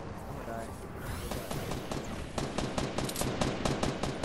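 Rapid automatic gunfire in Fortnite, a steady run of close, punchy shots that gets louder and denser in the second half, under faint game ambience.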